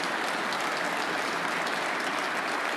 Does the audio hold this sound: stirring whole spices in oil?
no